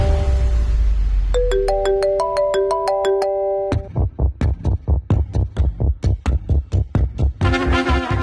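A mobile phone plays a melodic ringtone for an incoming marketing call: a bright stepped tune, then a run of steady throbbing pulses, and the melody returning near the end, loud and close with no talk.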